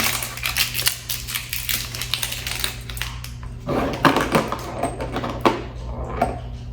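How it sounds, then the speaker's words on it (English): A small plastic package of screws for a Kwikset lock is torn and crinkled open by hand, giving a run of sharp rustles and crackles close by, busier toward the end. "It comes with some screws, so we're gonna go ahead and open that up"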